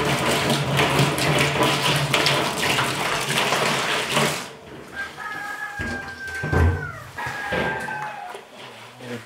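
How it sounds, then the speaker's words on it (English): Tap water runs steadily into a sink while dishes are washed with soap, loud and close for the first few seconds, then quieter, with clinks and splashes as the flow eases. "A little bit of water, a little bit of soap."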